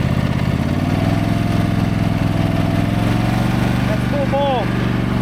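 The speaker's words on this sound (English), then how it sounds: "Rev her up." A Stiga Tornado 4108 HWL ride-on lawn mower with hydrostatic drive runs steadily up close, its engine holding a loud continuous drone while being revved, with a brief whistling tone near the end.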